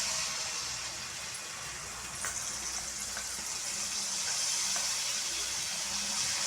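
Unniappam batter, a mix with coconut, frying in hot oil: a soft, steady sizzle and hiss at low volume with faint crackles, continuing without a break.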